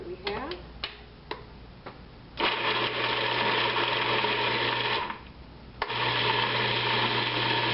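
A blender whirs loudly, mixing raw almond pâté with garlic, in two sustained runs separated by a short pause, after a few clicks and knocks of setting it up.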